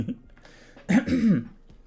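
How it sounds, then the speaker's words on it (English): Someone clears their throat once, a short rough rasp close to the mic, against a quiet background. "I need to clear my throat."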